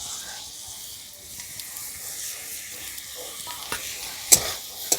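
Pointed gourd seeds frying in a pan with a soft, steady hiss of oil and a few faint scraping stirs near the end, quiet and close with no voices.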